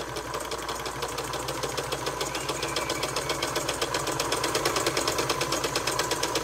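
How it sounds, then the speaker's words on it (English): A freshly repainted Singer 192K Spartan sewing machine runs steadily through flannel on a longer stitch, giving a close, continuous mechanical whir with a fast, even clatter of needle strokes that grows slightly louder toward the end, with no voices. "Well, she's sewing"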